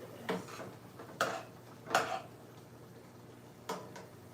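Carrots being stirred in a cooking pot for broccoli cheddar soup, heard as a few sparse, quiet scrapes and clinks of a utensil against the pot, spaced out with faint room noise between.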